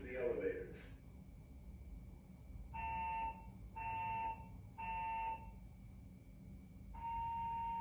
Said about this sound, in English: oh no, it's a fire alarm again